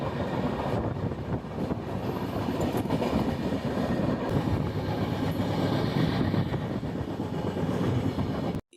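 Himgiri Express, the Howrah–Jammu Tawi train, rolling along the rails with a steady, continuous rumble and rhythmic wheel clatter close by, holding an even level throughout before cutting off at the end.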